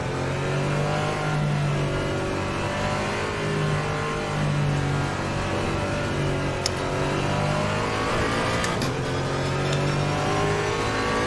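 A Porsche GT3 race car in Assetto Corsa Competizione, its engine droning steadily with rising and falling revs through gear changes, continuous and close, no talk over it.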